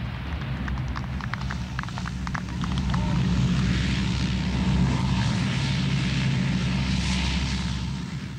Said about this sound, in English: the first of the RAF Hercules lands between the bomb craters on a stretch of runway